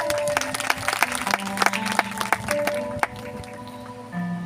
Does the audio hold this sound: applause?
yes